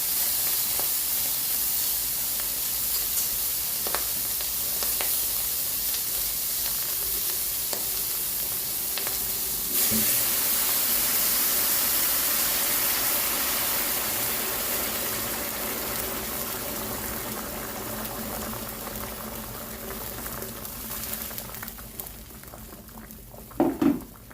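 Banana heart soup boiling in a pot after water is added, a steady loud sizzle and bubbling hiss that gradually settles into softer simmering, with a few utensil clinks near the end.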